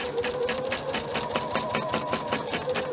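A sewing machine stitches steadily along a neckline seam, its needle hammering in a fast, even, close rhythm with no pauses.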